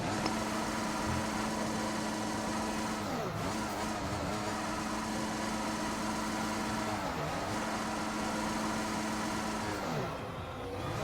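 A Formula 1 car in a racing video game idles with a high steady engine hum, blipped up briefly three times in quick revving dips, heard close and continuous without talk.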